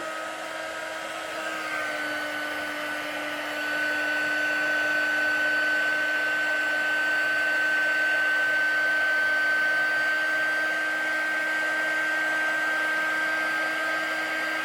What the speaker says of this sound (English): Heat gun, warm it up a little bit.